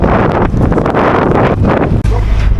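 Heavy wind buffets the microphone in loud, gusty rumbles on a boat tour off Didim on the Aegean coast, with a brief dropout near the end.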